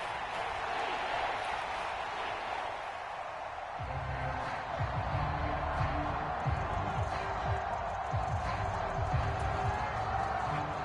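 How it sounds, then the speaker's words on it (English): The Arrowhead Stadium crowd roars in a football video game, a broad, sustained wash of cheering that swells louder partway through, with an announcer's voice over it. "The Arrowhead crowd in full roar"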